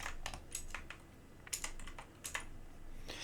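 Computer keyboard typing in bursts of clicky keystrokes with short pauses, moderately quiet and close, with no talking.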